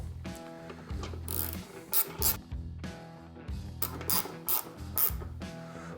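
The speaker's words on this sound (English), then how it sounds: "Bolts right in there, tighten it in" A ratchet driving a 7/32 hex bit tightens a bolt holding a bracket while fitting leather saddlebags on a 2022 Harley-Davidson Low Rider ST, giving close, repeated bursts of metallic clicking and rubbing with short pauses, no talking.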